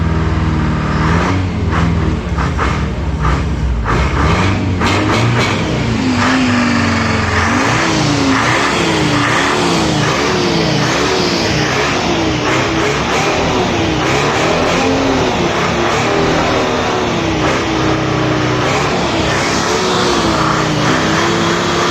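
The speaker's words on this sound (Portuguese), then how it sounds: "Detroit Diesel in the van." A Detroit Diesel 4-53N engine with N45 injectors fitted in a van, revving hard and close, with repeated throttle blips and a sustained rising and falling roar.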